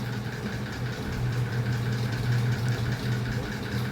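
A sewing machine hums steadily as it stitches elastic onto fabric, a continuous close mechanical whir with a faint rapid rattle and no pauses.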